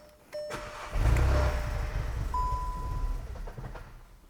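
An abandoned Volkswagen MK7 GTI with engine faults cranks and fires up, then settles into a steady close idle, the engine note holding evenly after a brief initial surge.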